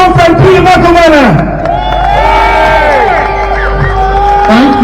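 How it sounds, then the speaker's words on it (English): A rally crowd cheers, whoops and claps loudly and close up, with voices shouting throughout and a strong hubbub of excited people. "Give a massive round of applause for my friend and your friend Peter McElvenna"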